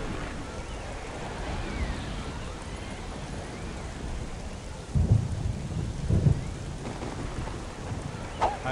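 Steady rain pours through a thunderstorm in the god game Black and White, with deep thunder rumbles rolling in around the five and six second marks and a brief crack near the end.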